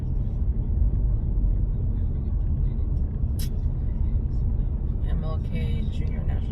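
Heavy road traffic fills the scene with a dense, continuous low rumble of cars and engines, a brief sharp hiss cutting through midway and some higher clatter near the end.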